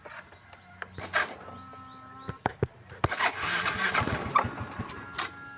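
A Yamaha Mio i 125 motorcycle engine cranks and briefly catches with sharp bursts, then dies out and stalls, close and moderately loud.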